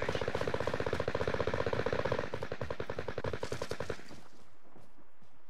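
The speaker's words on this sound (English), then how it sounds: "They're shooting at me." Automatic gunfire in Call of Duty Vanguard, a rapid sustained burst of rattling shots up close that thins into slower, fainter shots before stopping, with no talk over it.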